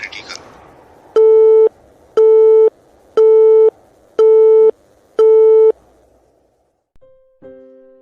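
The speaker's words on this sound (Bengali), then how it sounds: "ফোনটা কেটে যায়।" After a dropped telephone call, a loud disconnected tone beeps five times at an even pace, each beep about half a second long, before a brief different tone closes it.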